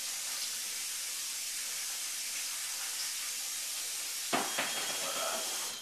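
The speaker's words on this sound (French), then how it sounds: "On rince jusqu'à temps que l'eau devienne claire." Running water pours steadily from a kitchen tap with a constant hiss as something is rinsed, and a brief clatter near the end.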